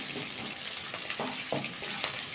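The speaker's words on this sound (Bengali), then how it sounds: "কাঁচা লঙ্কা কুচিয়ে রেখেছিলাম, সেটা দিয়ে দেবো, দিয়ে আবার নাড়াচাড়া করে নেব।" Chopped onion and green chillies fry and get stirred in a pan for a masoor dal and cabbage dish. A steady close sizzle runs throughout, with several scraping stirs at intervals and no talk.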